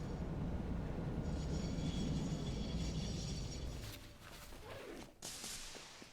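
A train ride in the factory-building game Satisfactory, a steady low rumbling roll of wheels on track that thins out into quieter rail noise with a few squeals and clacks near the end.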